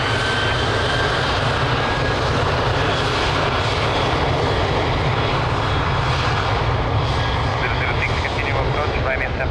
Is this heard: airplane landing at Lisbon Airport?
yes